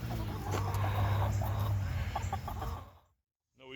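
Chickens in a coop run cluck and murmur nearby in a steady, busy chorus while being tossed snacks, then the sound cuts to near silence with a brief noise at the end.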